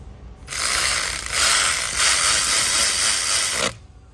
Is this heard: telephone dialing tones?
no